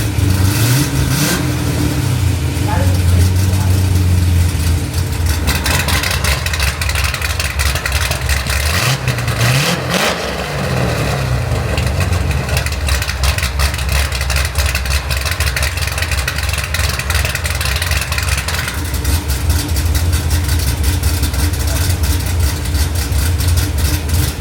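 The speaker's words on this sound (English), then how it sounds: "we're gonna do some revs now, starting out with the valves closed" A Chevrolet Corvette C6 Z06 with its exhaust valves closed is revved repeatedly, loud and close, with the engine rising and falling in pitch over a steady idle.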